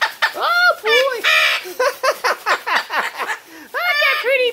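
A pet bird calls close by with a quick run of varied squawks, chirps and chattering bursts, some separate and some strung together, across a few seconds.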